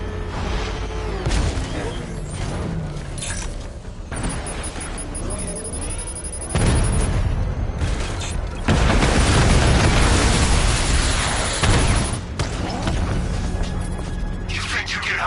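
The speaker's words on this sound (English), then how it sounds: "Alfred, the Arkham Knight's missile launcher is destroyed." In Batman: Arkham Knight, the Arkham Knight's missile launcher explodes in a run of heavy booms and crashing bursts, loud and close, building to a sustained roaring blast in the middle before easing off.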